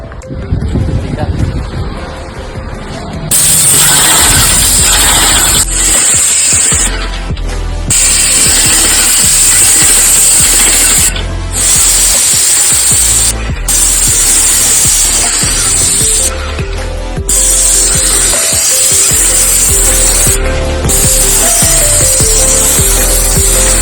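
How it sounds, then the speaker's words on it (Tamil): An Asian Paints spray painting machine for home walls runs loudly with a hissing, motorized roar, broken by several brief pauses as the spray stops and restarts, with some clicks and mechanical noise at the start. "இப்போ நம்ம ஆன் பண்ணலாம். ஸோ மிஷின் ஆன் ஆகும்."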